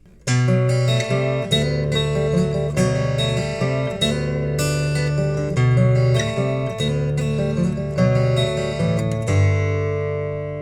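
A Taylor 814 CE acoustic guitar in DATGA tuning, played straight into an amp with flat EQ, plays a series of ringing chords and single notes at a relaxed pace, clear and close, fading out at the end.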